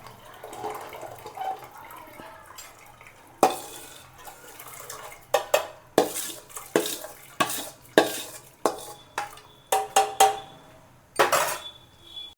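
Washed lentils are tipped into a pressure cooker with repeated wet clanks and scrapes of a utensil against metal, irregular knocks rising out of a quiet kitchen background close to the listener.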